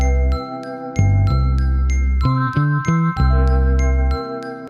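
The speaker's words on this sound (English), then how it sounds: "I then added a Glockenspiel, a counter rhythmical thing here." A glockenspiel plays a simple repeating arpeggio of bright metallic tones over warm electric piano chords, with the ringing bar notes clear and prominent in the mix.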